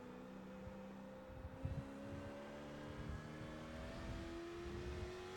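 Race car engine in the iRacing video game, a faint, steady rising engine whine with a gradually climbing pitch and light thumps, continuous over several seconds.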